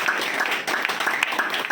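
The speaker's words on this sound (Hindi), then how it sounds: "तो भाई साहब के लिए भी जोरदार तालियां" Clapping breaks out at an annual day celebration at a Kirti Nagar centre, a short burst of fairly close, uneven hand claps from a small gathering.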